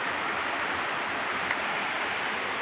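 Clear, shallow mountain creek at El Chiflón, between Hidalgo and Veracruz, rushing in a steady, close, dense wash of water with no voices.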